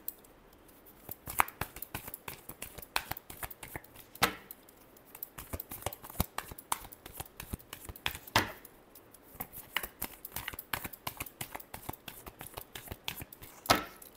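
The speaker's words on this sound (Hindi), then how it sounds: "Last shuffle." Tarot cards being shuffled by hand: rapid, dense clicking and snapping of cards in a steady run with a few louder slaps, close and clear, with no voice over it.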